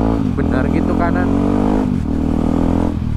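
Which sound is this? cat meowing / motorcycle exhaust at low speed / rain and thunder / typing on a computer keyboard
motorcycle exhaust at low speed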